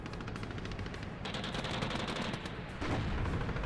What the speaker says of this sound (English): Man, the double machine guns, just